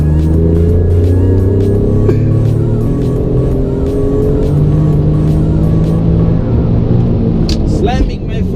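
An Alfa Romeo Giulia Quadrifoglio saloon spinning out, its engine loud and close with a sustained droning rev that rises and falls, tyres scrubbing and a brief squeal near the end.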